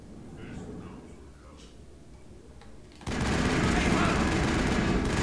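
Rapid continuous gunfire from a Mass Effect firefight erupts loud and dense after a quieter stretch with faint shots, sustained to the end.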